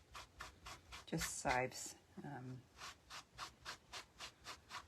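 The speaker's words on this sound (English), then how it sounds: "Get as much of that off with my baby wipe as I can" A baby wipe rubs dirt off a surface in a steady series of rhythmic, scratchy strokes, close and fairly quiet, with a brief spoken phrase partway through.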